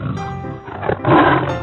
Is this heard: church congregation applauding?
no